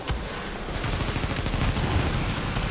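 Dense gunfire from the video game Tom Clancy's The Division, a steady unbroken barrage of rapid shots and bursts throughout, loud and close with no pauses.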